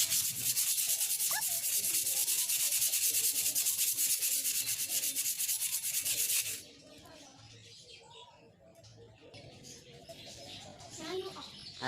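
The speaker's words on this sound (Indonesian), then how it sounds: "selanjutnya kita amplas bagian luarnya" Steady scratchy rubbing of sandpaper on the badly rusted outer surface of a Sharp Innova air rifle, loud and close, stopping partway through and leaving quieter background noise.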